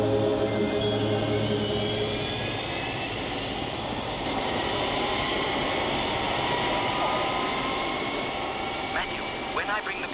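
An airplane's engines drone steadily in flight for the whole stretch, loud and continuous, while voices talk over them.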